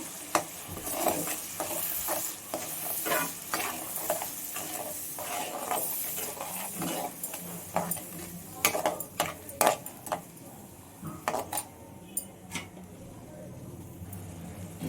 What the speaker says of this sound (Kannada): ಹಾಕೊಂಡು ಚೆನ್ನಾಗಿ ಫ್ರೈ ಮಾಡಿ.